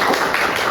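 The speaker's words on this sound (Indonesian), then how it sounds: "Oke, tepuk tangan buat kita semuanya." Classroom applause from a group of students, a brief, dense burst of overlapping hand claps that stays steady and fairly loud throughout.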